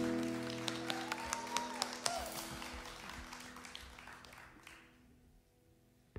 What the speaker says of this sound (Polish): proszę was jeszcze raz o brawa dla chóru, bo naprawdę dali czadu